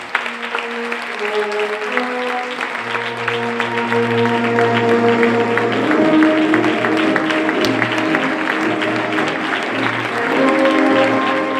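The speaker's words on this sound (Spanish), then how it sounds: "Un fort aplaudiment" Steady applause from a large crowd at a Valencian fallas presentation ceremony fills the whole stretch, dense and continuous, with a band playing sustained tones underneath.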